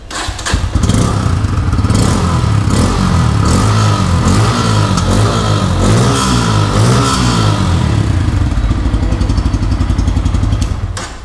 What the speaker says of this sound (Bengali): এটা হচ্ছে পালসার N160, এটাতে কিন্তু আন্ডারবেলি এক্সস্ট ইউজ করা হয়েছে